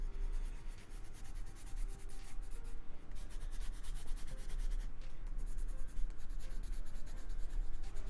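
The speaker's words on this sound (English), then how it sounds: "I'm using like the side of the pencil to try and" A pencil held on its side shades across paper in continuous scratchy, rubbing strokes, steady and close, with brief pauses between passes.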